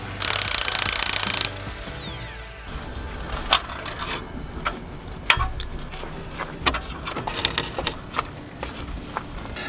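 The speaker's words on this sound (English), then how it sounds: "This is a 13mm bolt. So go ahead and remove that bolt" A 13mm bolt comes off an exhaust clamp on a BMW F30 328i Touring: a short loud burst of tool whirring, then a series of uneven metallic ratchet clicks and clanks, close by, with no voices.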